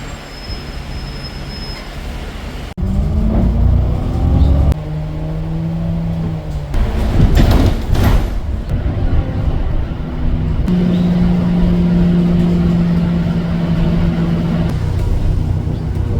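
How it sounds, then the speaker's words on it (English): A city bus in Italy pulls up at a stop near the ferry port with a heavy engine rumble and drawn-out brake squeals that rise and hold, close by, with no talk. "So here comes the bus."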